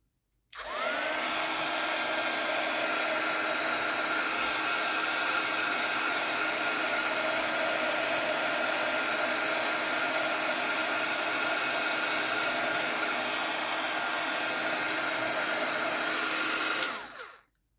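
A heat embossing gun blows with a steady, loud, continuous whoosh and a faint high whine while drying embossed paper, running unbroken for about sixteen seconds before cutting off.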